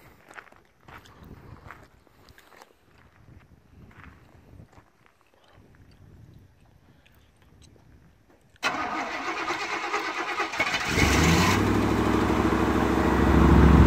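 A fuel-injected engine, pumped like a carburetor, cranks and catches in one sudden loud burst, then settles into a steady, louder idle that swells up close, after quieter shuffling and footsteps.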